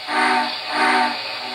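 A custom painted MTH Hooterville Cannonball model steam locomotive gives two short, breathy whistle toots for the forward signal, close and clear, with a hissing steam tone behind them.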